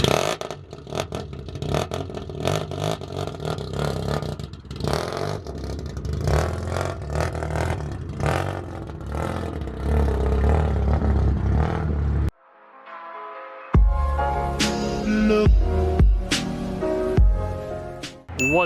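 An FC RX-7 with a GT wing rattles and clunks as the wing is shaken by hand, a close series of irregular knocks and clatter, broken by a brief silence before more rattling and scraping.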